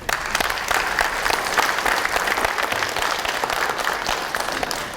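Sustained applause from a conference audience at the opening ceremony of the 2023 World Securities Forum, a steady dense clatter of many hands clapping continuously at fairly loud level, with no speech over it.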